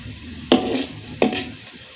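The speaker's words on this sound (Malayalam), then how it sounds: "ചട്ടുകം കൊണ്ട് ഇളക്കി കൊടുക്കുക." A spatula stirs mulberry pickle in a pan, making two quick scraping strokes against soft sizzling, close and clear with no voices.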